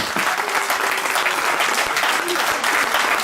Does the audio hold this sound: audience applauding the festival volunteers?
yes